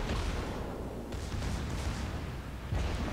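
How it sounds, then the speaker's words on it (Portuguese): Secondary guns on a warship in World of Warships firing in a steady, dense barrage of booms and rumbling blasts, loud and continuous with no talk over it. "As duas secundárias já estão trocando tiro."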